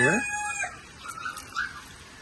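A rooster crows loudly and close at the start, followed by a few softer clucks and calls from chickens nearby.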